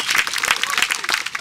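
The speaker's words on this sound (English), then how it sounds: "let's give an applause to ourselves" Crowd of hotel workers clapping at a union rally, a short burst of lively, uneven applause with some voices mixed in among the hands.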